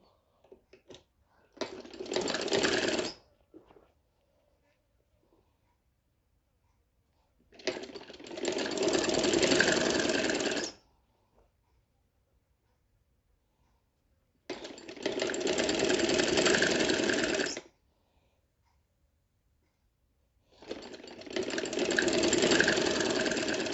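A sewing machine runs rough stitching on the tucks of a kurti in four separate bursts of a few seconds each, a close, rapid mechanical whirr with quiet pauses between runs.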